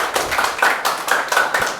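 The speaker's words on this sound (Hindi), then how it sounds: "तालियां भाई, तालियों में कोई कमी नहीं होनी चाहिए।" An audience claps during a student felicitation at a coaching class, with dense, lively applause of several hands in uneven bursts throughout, close and fairly loud.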